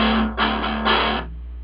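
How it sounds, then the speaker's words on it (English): Distorted electric guitar power chords ring out in a short series of three strummed hits, loud and close, the last one left to decay under a steady amp hum. "So to get a little bit less of a distorted, crappy sound out of it, we play power chords."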